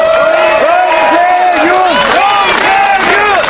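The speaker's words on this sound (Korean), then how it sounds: "다시 한번 큰 박수 부탁드립니다" Loud, sustained crowd cheering and chanting at a Democratic United Party political rally for candidate Chung Sye-kyun, voices rising and falling in waves throughout.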